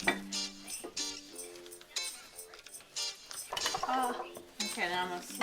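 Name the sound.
stirring cookie dough ingredients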